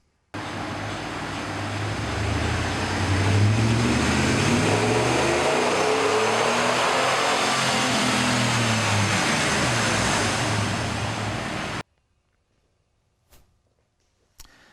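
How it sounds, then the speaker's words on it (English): A truck engine fitted with shorty headers revs up on a dyno and winds through a long sustained pull with a rising and falling whine, then cuts off abruptly into quiet. "let's do some baseline dyno runs"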